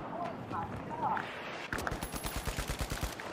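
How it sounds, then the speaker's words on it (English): Shotgun fire in the game The Finals, a rapid run of punchy blasts in the second half following muffled game noise, with talk mixed in. "That's a shotgun."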